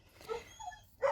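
Pet dogs indoors give a few short, fairly soft yips and barks in quick succession, the last one louder, heard near the listener over a quiet background.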